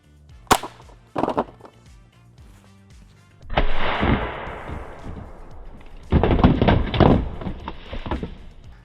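Shots from a .22 LR MP5-style rifle firing CCI standard velocity ammunition: two sharp cracks early on, then two longer bursts of loud impact noise, each lasting a couple of seconds.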